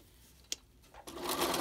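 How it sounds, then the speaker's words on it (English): A sewing machine starts stitching near the top edge of a face mask, rising from a quiet click into a steady close whir. "And I'm going to sew close to the top."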